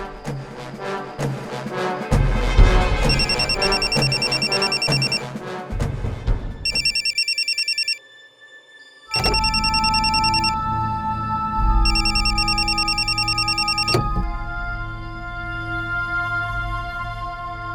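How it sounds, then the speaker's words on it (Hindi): A telephone rings in a Hindi crime drama, its electronic ring arriving in several repeated bursts, loud and close, layered over dramatic background music with a brief silent gap midway. "मैं अभी फोन करती हूँ, अभी आपको पता चल जाएगा कि मैं कौन हूँ।"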